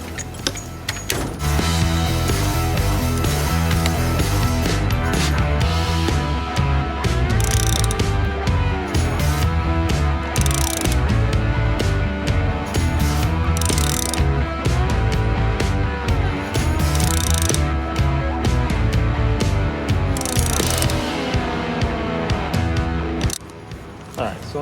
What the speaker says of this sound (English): I have a short one, so we'll use a deep and half-inch ratchet.